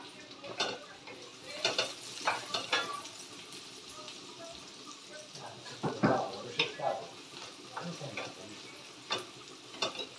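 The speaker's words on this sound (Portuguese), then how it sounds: "Tô dourando, bem douradinha." Onion browning in a frying pan for a rooster dish with wine and mushrooms: a soft sizzle with intermittent clinks and scrapes of stirring, partly under a voice talking.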